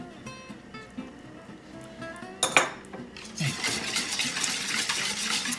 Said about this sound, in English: I'm gonna add my ginger then into this mixture. Just kind of whisk that up.